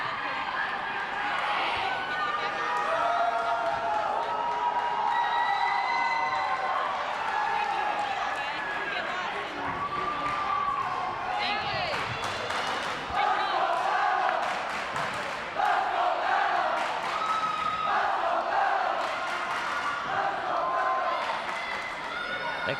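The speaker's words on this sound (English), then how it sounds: "The crowd's getting rowdy." A rowdy crowd at an evening high-school volleyball fundraiser event cheers, yells and claps in a continuous roar in a gym, with scattered shouts rising and falling and people talking nearby.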